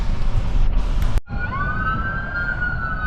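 An emergency vehicle siren wails steadily at flooded Lake Texoma, rising and holding over a rumbling background, heard after a sudden cut.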